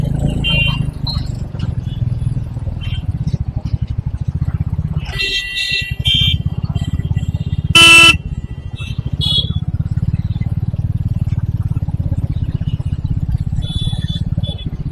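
Constant low engine rumble of heavy traffic on a busy road, with a short burst of a loud, bright horn blast near the middle and fainter tonal honks scattered around it.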